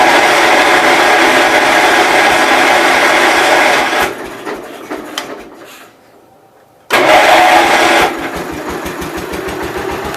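A 1988 Gravely 12G tractor engine catches and runs loud and close, sputters down to near silence, then fires back up with a sudden roar and keeps chugging steadily.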